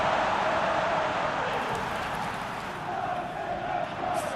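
Stadium crowd in a football video game, a steady wash of cheering and roaring spectators that holds broad and continuous, slightly easing in the middle before swelling again.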